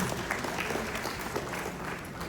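An audience claps steadily at a Uganda North American Association speech event, with dense, continuous applause filling the whole stretch at moderate distance.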